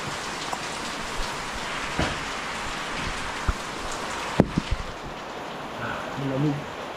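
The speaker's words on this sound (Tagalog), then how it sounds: "Video na lang ako na katunayan na napakalakas ng ulan." Heavy rain pouring steadily outdoors at a waterfall area on a hill ride, a dense constant hiss with a few sharp drops or knocks and faint voices near the end.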